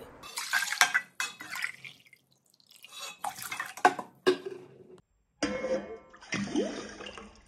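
Water is poured into a cooking pot of rice for ragi mudde, heard as several close splashing, dripping bursts separated by brief silent gaps, with faint clinks of the vessel.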